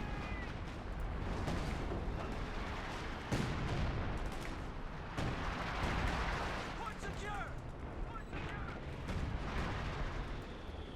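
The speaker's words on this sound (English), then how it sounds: "creeping barrage, really good for direct strikes" A creeping artillery barrage in Company of Heroes 2 during a 4v4 match on Hill 400, with repeated heavy booms and blasts rolling over a continuous battle din while a commentator talks over it.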